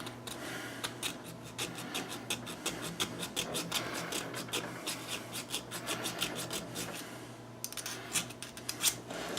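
A faint, rhythmic rasping of metal being ground or filed while fitting a 1911 pistol backstrap and hammer strut, repeated strokes continuing with no talking.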